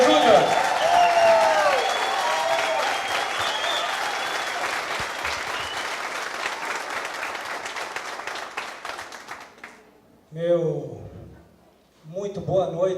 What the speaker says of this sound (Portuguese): eu peço que recebam com uma calorosa salva de palmas o futuro presidente da OAB Cascavel